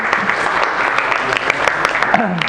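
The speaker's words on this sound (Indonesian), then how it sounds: "Tepuk tangan buat Mbak Alicia." A classroom full of people claps steadily, a dense patter of applause with a few voices mixed in underneath.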